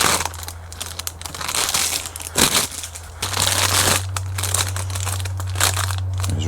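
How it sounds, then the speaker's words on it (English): Plastic bags holding piston rings for an LS2 engine build crinkle and crunch loudly up close, in irregular bursts of rustling as they are handled and opened. "These are loud. Sorry about that. These loud ass bags here."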